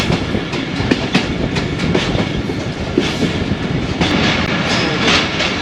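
A train running on the Narowal branch line in Pakistan, with steady wheel clatter and rolling rumble continuing throughout, plus repeated clickety-clack beats over the rail joints.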